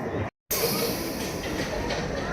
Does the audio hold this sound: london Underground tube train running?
yes